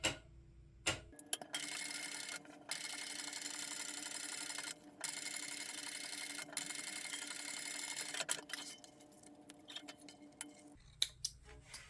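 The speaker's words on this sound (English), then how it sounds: "we're going to top stitch along the edge of the top of our pocket" A sewing machine topstitches along the top edge of a handbag pocket in several steady runs of rapid stitching, separated by brief pauses and small clicks, heard close and alone.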